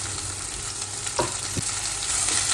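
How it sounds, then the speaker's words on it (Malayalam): Spinach sautéing in a pan for Kerala cheera thoran, a steady close sizzle and fry with a few soft stirring scrapes over it and no voices. "അതൊന്ന് ചെറുതായിട്ട് വഴറ്റിയിട്ട് നമുക്ക് ചീര ഇട്ട് കൊടുക്കാം."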